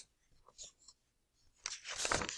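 Pen or marker scratching across paper while drawing a line on a graph, brief soft strokes at first, then a louder sustained scratchy rub in the last second.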